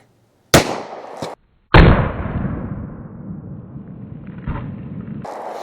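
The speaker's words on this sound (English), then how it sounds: "The 32 H&R Magnum first." A Taurus .327 revolver firing a 32 H&R Magnum round outdoors: a sharp, loud report with a long echoing decay, after a brief earlier crack and a clipped burst.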